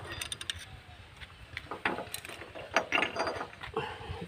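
Metal parts of a VST gearbox clink, scrape and rattle as it is worked open with a screwdriver, in irregular bursts of close knocks and ratcheting clicks with brief pauses.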